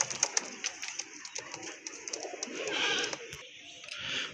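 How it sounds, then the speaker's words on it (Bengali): Pigeons kept for sale, including a black-and-white pair, give soft repeated coos with short chirps among them, close by and fairly quiet, with no talk over them. "আরেক জোড়া কবুতর দেখতে পাচ্ছেন এখানে"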